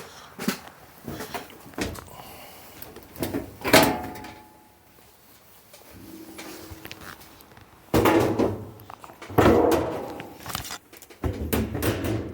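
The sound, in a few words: Samsung front-loading washer door lock, door handled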